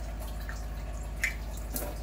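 Water drips from the tap of an NF and RO water purifier with alkaline output into glasses, a few soft drips over a steady low hum, with no talk.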